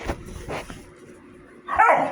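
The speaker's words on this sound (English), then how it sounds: "Y'all gotta excuse the dogs." A dog barks sharply a few times at close range, with a louder, whining yelp near the end and quiet gaps between.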